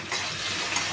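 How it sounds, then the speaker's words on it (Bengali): Potatoes and coconut frying in a pan, a continuous close hiss and sizzle without pause and no voices. "আলু আর নারকেলটা ভেজে নেব।"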